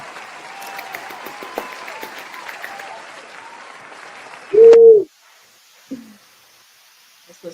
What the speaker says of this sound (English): Oh my God, that's a long clap.